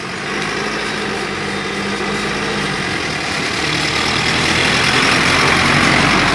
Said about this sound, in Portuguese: Deixa o caminhão passar aqui. Deixando o caminhão passar aqui, por causa do barulho.